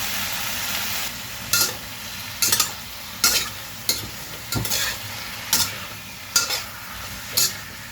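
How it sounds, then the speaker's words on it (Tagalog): Chicken for tinola is sautéed in a little shrimp paste (bagoong) while a spatula stirs it in about eight distinct, evenly spaced scraping strokes over a constant, loud sizzle. "Ginigisa ko siya sa konting bagoong."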